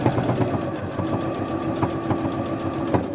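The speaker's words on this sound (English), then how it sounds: "all the way around the edge to top stitch your binding down onto your blanket" A sewing machine top-stitches binding along the edge of a Minky blanket at a longer stitch length, a steady, close, even mechanical hum and rapid needle thumping throughout.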